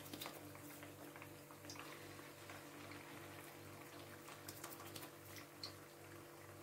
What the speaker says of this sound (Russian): и пусть они тут себе шкварчат